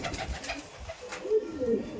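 Kaldom pigeons coo in a loft with low, rolling calls that repeat across the moment, fairly close, over soft background rustle.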